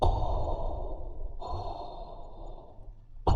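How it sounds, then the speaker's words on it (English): Slow, audible ujjayi yoga breaths with the throat constricted, a soft hissing throat sound, a long exhale, then an inhale, calm and close. "the Ujjayi method, contraction in the back of the throat, there's some sound involved, an audible sound."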